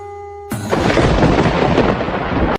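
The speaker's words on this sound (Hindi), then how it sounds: "ये बिना मौसम की गरजती हुई बारिश हमें क्या संकेत देती है?" Thunder rolls in suddenly and loudly with unseasonal rain, a dense sustained rumble for about two seconds that stops abruptly.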